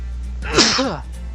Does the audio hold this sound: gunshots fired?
no